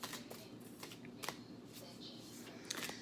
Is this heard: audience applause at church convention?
no